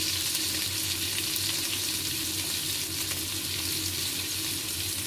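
Pork chops sizzle steadily in a hot frying pan, a dense, continuous crackle that holds at an even level throughout with no voices.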